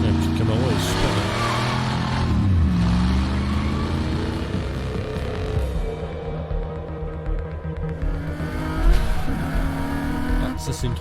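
A Nissan 350Z in Need for Speed Heat revs loudly and continuously, its engine rising and falling with gear changes and occasional tire squeal. Someone speaks over the engine noise.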